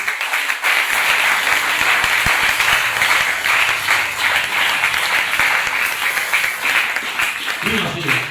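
A church congregation applauds during a service, the clapping sustained and dense throughout, loud and close, with a faint voice at the very start and end.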